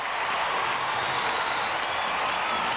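Crowd cheering and applauding in an Oklahoma City hockey arena during a 2004 Central Hockey League game against Tulsa, a steady, dense roar of many voices and clapping throughout.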